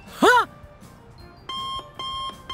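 A short electronic warble, then an airport security scanner alarm beeping high-pitched in steady pulses, fairly loud and close.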